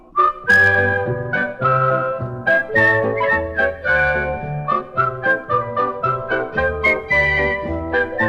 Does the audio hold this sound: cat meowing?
no